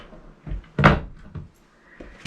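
A cabinet door above the bed in an Airstream Classic 30-foot RB travel trailer is handled with a few knocks and creaks. A sharp, close thump closes it firmly, and soft clicks follow. Nobody speaks.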